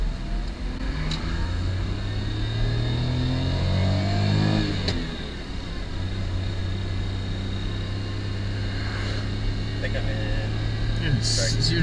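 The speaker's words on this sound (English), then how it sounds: "Oh man, that turbo really kicks in." A 1993 Autozam AZ1's turbocharged engine pulls hard from inside the cabin, a steady droning rev that climbs, dips at a gear change, then builds again under occasional voices.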